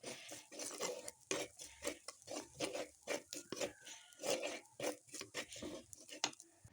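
Coconut being roasted golden in a dry pan and stirred, heard as a quick series of rhythmic scraping strokes against the metal, fairly soft and close.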